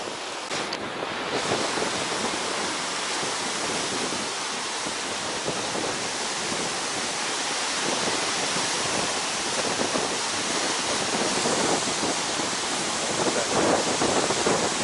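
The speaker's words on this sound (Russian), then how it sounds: "Ветер, наверное, вам мешает, конечно." Heavy, continuous wind buffeting the microphone, a roaring broadband rumble with no speech, steady for the whole stretch.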